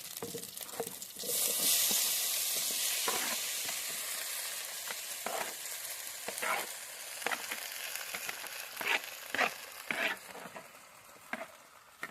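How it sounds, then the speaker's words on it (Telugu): Chopped tomatoes hit a hot pot on a wood-fired stove with a loud burst of sizzling that fades to a quieter fry, punctuated by repeated scraping and tapping of a stirring utensil. "ఇప్పుడు కట్ చేసుకున్న టమాటాలు వేసుకుందాం"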